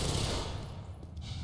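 A dense, loud burst of rapid gunfire from the Black Mesa video game fills the whole short moment, the shots packed together with no speech over them.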